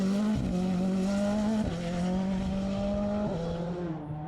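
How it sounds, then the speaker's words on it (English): A Ford Fiesta World Rally car races flat out on a tarmac rally stage in Galway, its engine note loud and close with sharp drops at each gearchange and some tyre squeal, no talking. "pushing hard in his Fiesta World Rally car"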